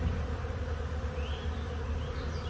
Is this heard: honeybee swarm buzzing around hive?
yes